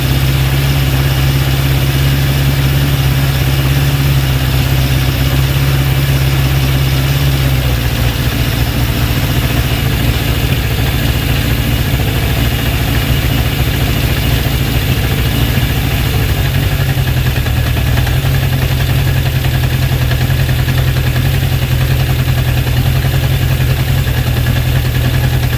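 A Honda CB750 K2 motorcycle engine idles steadily and close during carburettor balancing. Its revs drop noticeably early on, then the engine settles into a lower, even idle.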